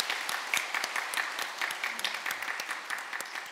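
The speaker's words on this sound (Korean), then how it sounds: "서울 격려한 박수 하시겠습니다." A church congregation applauds during a Sunday worship service, a steady patter of many hands clapping at moderate loudness throughout, with no talk over it.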